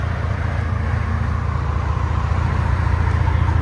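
A 2011 Ford F-150 EcoBoost FX4 with a Dynomax race bullet muffler cruises at highway speed, its exhaust a smooth, steady low drone blended with road and cabin noise, with no rasp and no talk.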